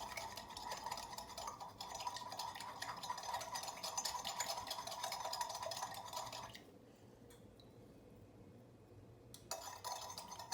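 A utensil scrapes and swirls steadily in a container, mixing yeast starter for Neapolitan pizza dough. The stirring is close and continuous for several seconds, then goes quieter with a few light clinks before it resumes.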